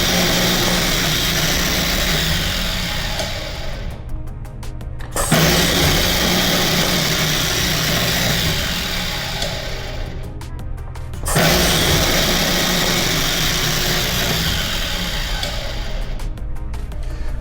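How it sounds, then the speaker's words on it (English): A Grizzly G0643 21-spindle line boring machine with a single-phase, pedal-actuated pneumatic motor runs with a steady, loud whirring drone, briefly dipping and surging back up several times as it cycles. "when you hit the foot pedal, the pneumatics will actuate and turn the motor on"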